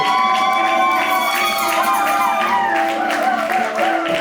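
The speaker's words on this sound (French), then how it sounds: "On va applaudisser pour la gloire de Dieu." Church wedding congregation in Orléans bursting into loud cheering, whoops and shouting, a dense crowd roar that stays strong throughout; applause is not clearly picked out.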